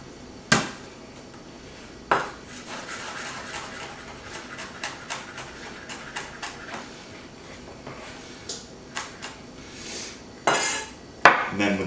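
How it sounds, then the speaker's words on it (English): A knife smashes and chops garlic cloves on a kitchen board: a series of sharp, close knocks and taps, irregular in rhythm, with a few louder strikes near the start and end. "a quick smash on all the cloves"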